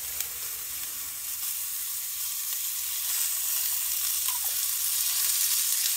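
Olive oil frying in a pan at a camp cookout, a steady bright hiss and sizzle that grows slightly louder midway, close and continuous without talk.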